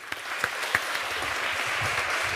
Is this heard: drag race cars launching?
no